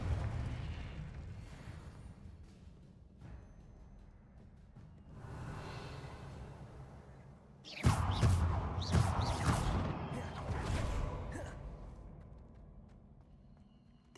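A Confringo blasting spell explodes in Hogwarts Legacy, a loud burst of crashing, rumbling impacts with whooshing debris that swells suddenly mid-scene after quieter ambience, then slowly decays.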